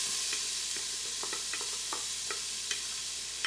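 Minced onion sautéing in olive oil inside an Instant Pot on low sauté, a steady soft sizzle with scattered light stirring scrapes and taps throughout.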